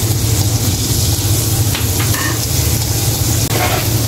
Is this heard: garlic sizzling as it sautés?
yes